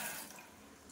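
Kitchen tap running steadily while dishes are washed, a soft continuous splash and hiss, faint and unbroken for under a second.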